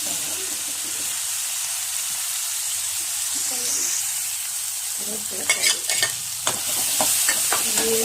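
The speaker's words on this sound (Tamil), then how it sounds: "வதக்கிடணும். வெங்காயம் தக்காளி போட்டதெல்லாம் கொதிச்சு" Onion and tomato sautéing in a pan for Bombay chutney give a steady, close sizzle and hiss, joined partway through by clattering stirring strokes against the pan.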